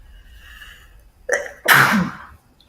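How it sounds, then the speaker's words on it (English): A single loud sneeze, a quick sharp inhale and then an explosive burst, in an otherwise quiet room. "I think I feel a sneeze coming on."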